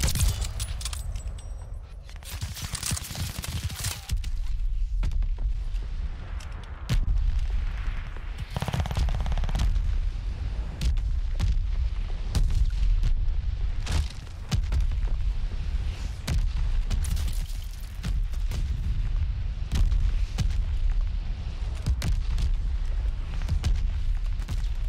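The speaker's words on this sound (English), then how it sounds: "They're sending mortar shells!" Incoming mortar shells pound the battlefield in a video game, a dense run of sharp blasts and rattling gunfire, with loud bursts crowding the first seconds and further impacts scattered throughout.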